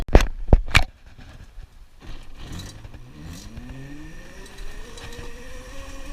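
An electric EXR fitted with a Kelly controller on a test ride at full throttle: a few sharp clunks at the start, then a rising motor whine that climbs steadily in pitch over road and wind noise.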